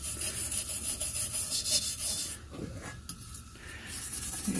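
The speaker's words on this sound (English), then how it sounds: "See if I can scrub a little bit of that rust off right there." Brass bristle brush scrubbing rust off a vintage Kamplite lantern's metal, a close, raspy back-and-forth scraping in quick strokes, fairly quiet, pausing briefly midway before resuming.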